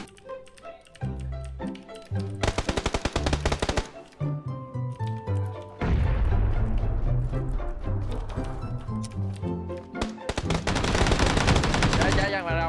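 Rapid bursts of video game gunfire crackle loudly over a busy, musical game soundtrack, coming in dense volleys around the middle and again toward the end.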